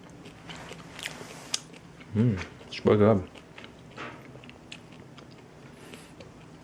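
Crusty homemade sourdough bread being bitten and chewed in two short crunchy bursts close to the mic, with a person talking briefly before and after.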